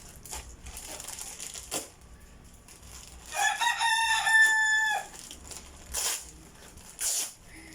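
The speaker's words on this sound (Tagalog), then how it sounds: "Kasi maingay na yung alaga naming manok." A rooster crows loudly and close by for a couple of seconds, followed by a few shorter clucks and squawks over a quiet background.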